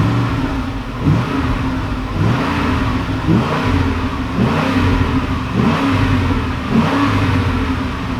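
A Ford Raptor fitted with a Corsa exhaust revs in a series of about seven evenly spaced blips, each rising and falling back to a deep burbling idle, loud and close with no talking.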